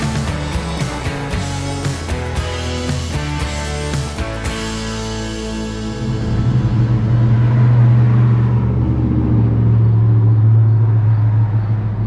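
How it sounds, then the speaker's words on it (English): Cars and trucks pass by on a road in Ohio, heard from the roadside as a steady traffic rumble that swells into a louder, deeper engine roar as a heavier vehicle goes past. "watching cars and trucks pass by before continuing on"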